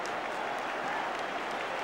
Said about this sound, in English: And the crowd are applauding Schmeichel off.